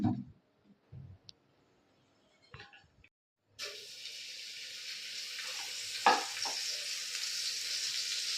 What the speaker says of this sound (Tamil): நம்ம கட் பண்ண மஷ்ரூமை ஆயிலில் சேர்த்துப்போம்.